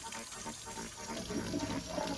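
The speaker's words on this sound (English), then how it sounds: "We'll wash our knives as well as the cucumber. Nice cold water." Cold water runs steadily from a kitchen tap, splashing as a cucumber and knives are washed under it, close by and fairly quiet, with no voices over it.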